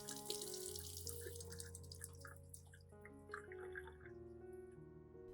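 Running tap water pouring over orchid roots during a rinse, a faint steady splash and trickle with scattered drips, continuous through the short stretch with no voices.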